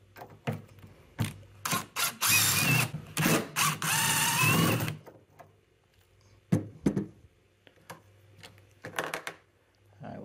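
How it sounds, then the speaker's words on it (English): Two screws come out of a GE refrigerator door hinge under a power driver: a close, rising whir of a few seconds, then scattered clicks and light handling knocks. "Come over here and we're gonna remove these two screws."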